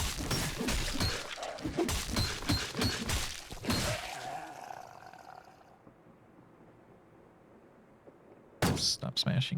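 Repeated smashing and crashing thuds from the game Cataclysm, a rapid loud run of impacts for about four seconds, then quiet, then another brief burst of hits at the end.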